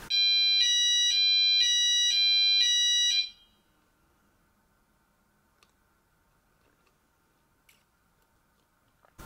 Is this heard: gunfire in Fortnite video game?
no